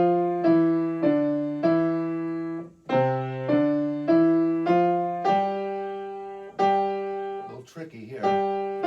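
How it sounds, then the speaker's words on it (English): Piano plays a simple Hungarian folk song melody, a slow sequence of single sustained notes stepping up and down with a brief pause midway, close and clear, with a short rustle near the end. "So here's the way Hungarian folk song sounds."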